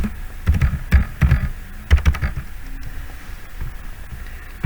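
Typing on a computer keyboard, a run of close, clattering key taps in uneven bursts that thin out into sparser, quieter clicks, with no talking.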